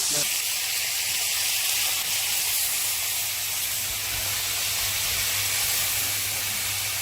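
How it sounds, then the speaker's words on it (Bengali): Chicken frying in a pan, a loud, continuous hiss and sizzle of hot oil that holds steady at close range, with no pauses and nothing else standing out above it. "চিকেনটা ভাজা না ভাজা হতে অনেক সময় লাগে আগে বসিয়ে দিলাম"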